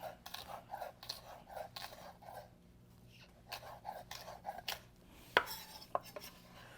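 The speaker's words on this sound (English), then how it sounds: "then just cut some chunks, about a medium dice" A knife chops a vegetable into medium dice chunks on a cutting board during a cooking demo of polenta with roasted vegetables, sounding as a series of crisp, close, irregular taps and thuds with short pauses and no talking.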